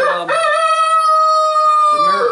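A loud rooster crows nearby, one long cock-a-doodle-doo that fills the whole moment.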